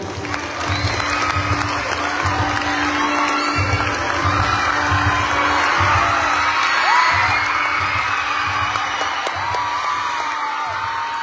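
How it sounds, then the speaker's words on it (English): A crowd at a festival program applauding steadily and loudly throughout, with scattered cheers and whoops rising from the audience. "resounding applause for Sir Emil C. Briaco."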